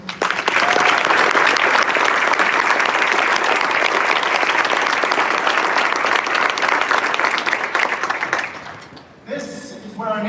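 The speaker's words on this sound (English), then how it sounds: "Please join me in giving them a round of applause for their outstanding performances." Audience at a Navy recruit graduation in Great Lakes, Chicago, applauding loudly for the drum corps, flags and color guard, a thick roar of clapping that fades out near the end before a voice starts.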